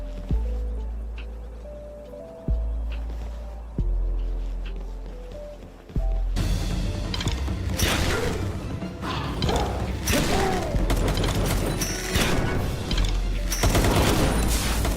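Gunfire and explosive blasts in the video game Palworld: repeated mechanical shots at first, then a dense, loud stretch of rapid fire and crashing blasts that continues to the end.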